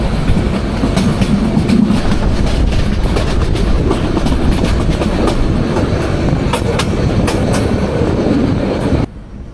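The Turna Express night train from Feni toward Dhaka runs on the rails in Bangladesh, a loud continuous rumble with rhythmic clickety-clack of wheels over joints, heard from inside the carriage with no talk, cutting off abruptly near the end.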